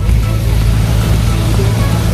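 A tractor pulls a small kuligi barge through floodwater, its engine a loud, steady, close low rumble that fills the whole moment with constant droning noise.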